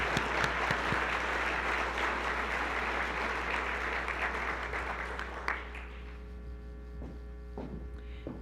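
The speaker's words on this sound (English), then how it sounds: "Let's have a round of applause for our Group C and all of our recipients" An audience at a scholarship ceremony claps loudly and steadily for the recipients for about five seconds, then the applause fades into a few scattered claps over a low electrical hum.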